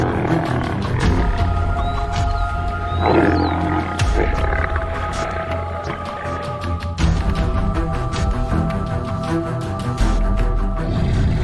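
A lion roars loudly from nearby bushes, deep rumbling bursts layered over a busy wild background with scattered clicks and tonal calls.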